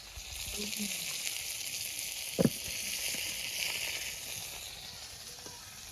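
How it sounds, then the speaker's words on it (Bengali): Tilapia fish frying in a pan of oil, a soft continuous sizzle heard close but low in level, with a brief clatter partway through and a faint voice at the start. "মাছ ভাজা হচ্ছে"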